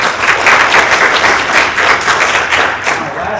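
Loud, dense audience applause fills a board meeting room, a crowd clapping continuously for several seconds before easing slightly at the end.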